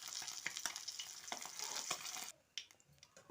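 Fish sizzle in hot oil in a pan, a crackling hiss broken by scraping stir strokes, then the sound drops away sharply to near quiet with a few faint clicks.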